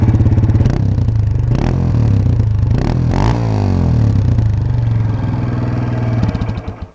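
A Honda CRF230F dirt bike with an uncorked exhaust idles loudly up close and is blipped several times, each rev rising and falling, before the engine cuts off at the end.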